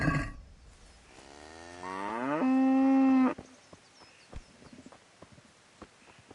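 A cow in Kingdom Come: Deliverance lets out one long, loud, rising moo, followed by scattered hoof clops and footsteps on the ground.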